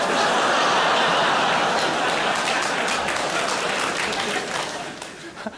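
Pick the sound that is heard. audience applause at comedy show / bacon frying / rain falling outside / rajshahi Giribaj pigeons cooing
audience applause at comedy show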